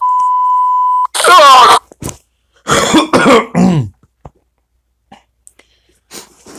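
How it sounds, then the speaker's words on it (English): A loud, close throat clearing and coughing, a few harsh guttural bursts following a steady electronic beep, then quieter scattered noises. "Sorry, I had to clear my throat."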